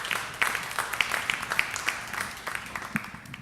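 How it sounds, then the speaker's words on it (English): Scattered audience applause for a comedian at a Hamilton County comedy show, light and thin with sparse claps fading in and out, fairly distant and faint. "Big round of applause, ladies and gentlemen, for everybody here at Sparks"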